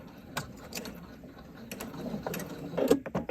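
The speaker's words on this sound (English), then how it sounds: "Box stitch. And sew." A domestic sewing machine runs a box stitch on fabric, quick mechanical clicks and a whirring needle drive in short irregular bursts, close and fairly quiet.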